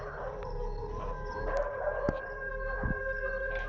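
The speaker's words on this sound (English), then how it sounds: "An incredibly loud howl pierced through all the dog barks" A sustained howl rises over a chorus of dogs barking, with sharp bark bursts scattered through the steady wail.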